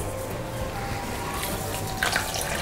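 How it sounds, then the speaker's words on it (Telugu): Water runs steadily as it is poured into dosa batter made with semolina, rice flour and buttermilk, a continuous close splashing stream with a brief louder gush near the end and no talking. "నీళ్లు పోసుకొని కలుపుకోవాలి."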